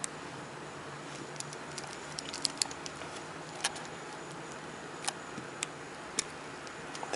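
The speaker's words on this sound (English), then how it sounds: "Just going to pry the battery out." Small, faint clicks and ticks come from a toothpick prying the old battery out of a wristwatch on a terry cloth towel. The scattered, sparse taps sit over a quiet room hiss.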